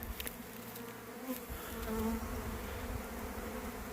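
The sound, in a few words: swarm of honey bees buzzing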